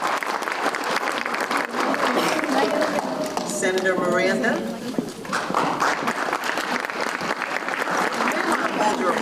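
Audience applause at a STEM academy scholarship announcement, a steady dense clapping that fills the whole span while a voice speaks over it near the middle.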